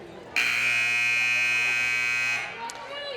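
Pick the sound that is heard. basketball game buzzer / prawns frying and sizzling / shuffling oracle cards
basketball game buzzer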